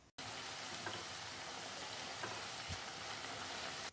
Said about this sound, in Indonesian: Dan goreng semuanya sampai selesai.